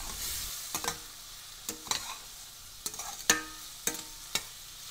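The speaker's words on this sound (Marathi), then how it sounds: "बारीक कट केलेले 2 मध्यम आकाराचे टोमॅटो घालूया। हे मऊ शिजेपर्यंत परतून घेऊया।" Finely chopped tomatoes are sautéed in an iron kadhai for a brinjal curry, giving a quiet, steady sizzle broken by several sharp spatula scrapes and clacks at an irregular pace. No one speaks.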